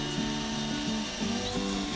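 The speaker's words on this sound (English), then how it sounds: "pre-drilling to make it easier to screw the hangers in" A power drill pre-drills holes in wood for screwing in plant shelf hangers, giving a steady continuous whine with slight pitch wobbles, close and loud, no talk.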